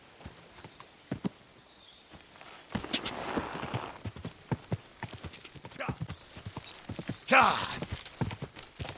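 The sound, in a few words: horse hooves clip-clop in video game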